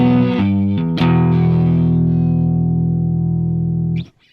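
A Fender Custom Telecaster through a Vox AC15 plays a few quick notes, then a sustained chord that rings loud and dry for about three seconds before it is muted.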